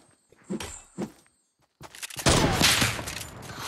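Sniper rifle fire in a video game: two or three sharp, separate thumping shots, then a loud, sustained burst of gunfire and noisy action that fills the rest of the clip.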